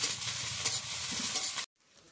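Cabbage, potato and onion sizzling in a pan while being stirred, a dense close frying hiss that cuts off abruptly near the end, leaving faint room noise.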